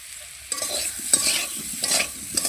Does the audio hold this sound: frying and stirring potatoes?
yes